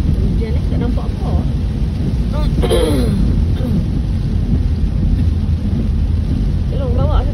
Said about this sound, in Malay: Hujan ni tak nampak apa.